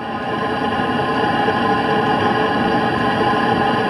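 Exhaust of a diesel heater on a camping trailer runs close to the microphone, a steady loud droning hum with a constant tonal whine and no talking.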